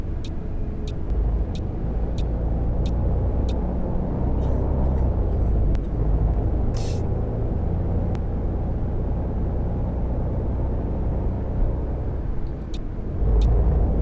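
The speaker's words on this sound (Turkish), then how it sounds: "Tıkır tıkır tıkır tıkır bir şeyler ses yapar. Aynı o ses geliyor." A Setra 531 DT bus engine in the game Fernbus Simulator rumbles steadily and low on a rough road, with faint rhythmic ticking rattles sounding over it throughout; no one speaks.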